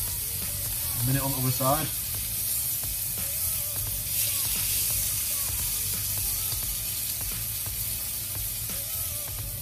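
Pigeon meat frying in a pan gives a steady, close sizzle with faint crackle that runs the whole time, while a person speaks briefly over it near the start.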